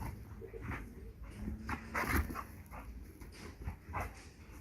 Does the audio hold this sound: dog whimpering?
yes